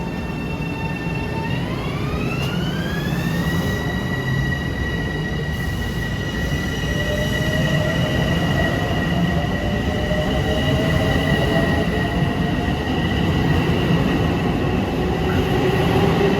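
A Long Island Rail Road train runs through Mineola station at morning rush, loud continuous rolling rumble with sustained high-pitched wheel squeal, the tones rising then holding steady throughout.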